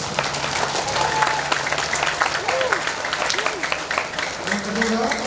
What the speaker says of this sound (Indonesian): Mari kita tepuk tangan untuk kita.